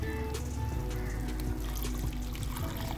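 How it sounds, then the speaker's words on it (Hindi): Water poured from a glass into minced beef cooking in a pan for cheesy macaroni, a steady close pour lasting a few seconds with no voice over it. "साथ में थोड़ा सा शामिल कर दूँगी मैं पानी,"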